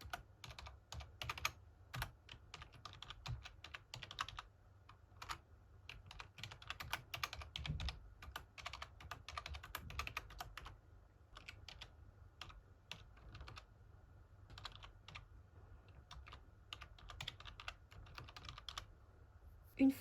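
Typing on a computer keyboard as text is entered, a quiet, steady stream of clicking keystrokes in irregular bursts with short pauses, close up and without speech.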